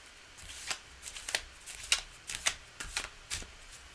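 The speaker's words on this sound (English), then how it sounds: "I'm trying to shuffle in a way that I don't hurt my hand." Tarot cards shuffled by hand at close range, a quick series of short papery riffles and taps in an uneven rhythm, with no talking.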